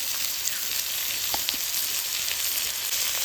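Onion, ginger, garlic, tomato and green chillies frying in a pan, a dense, continuous close sizzle with a few small crackles and no talking.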